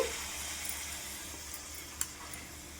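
Batter-coated coconut and date purnalu dumplings frying in oil in a kadai, a soft, even sizzle with a faint click or two, quiet and close, no voices.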